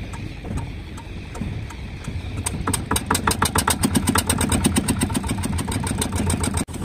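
A fishing boat engine on an inshore trawler off Nan'ao Island turns over and catches about halfway through, then settles into a steady, rapid idle with regular knocking pulses, loud and close.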